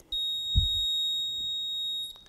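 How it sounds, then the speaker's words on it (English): A single long, high-pitched electronic startup beep from a DEWALT DCB1800 1800-watt portable power station holds steady for about two seconds, clear and close, with a faint low thump underneath. "you push the power button and there will be a long beep"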